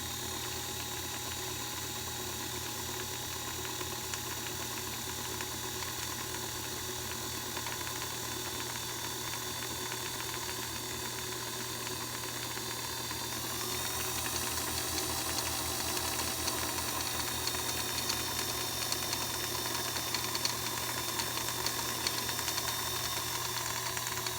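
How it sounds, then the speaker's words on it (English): A Kenmore sewing machine winding a bobbin gives a steady, close mechanical whir that picks up speed and grows slightly louder and brighter about halfway through, running alone without talk. "you keep going to fill the bobbin. And once it gets going good, you can make it go a little faster."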